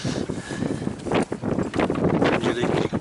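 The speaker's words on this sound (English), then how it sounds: "Usually you can probably tell it's quite windy." Gusty wind buffets the deck of a Sparkman & Stephens Aqua 30 sailing yacht, a steady rough rushing with louder surges throughout, fairly close to the microphone.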